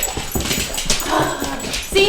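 A dog whimpers and lets out high yips in a close, continuous run of whining cries, with a person's voice faintly mixed in.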